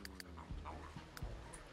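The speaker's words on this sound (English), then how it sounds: "Did he bring his dog to work today?" A dog pants softly in The Sims 3, a quiet steady breathing with faint whimpery yips at a few moments, no talk.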